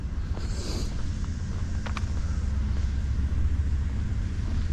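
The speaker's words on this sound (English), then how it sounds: "Oh, damn it, I hear the engine now." A low, steady engine rumble drones throughout on a Montreal street at night, with a few faint higher clicks and a brief hiss early on, fairly close and unbroken.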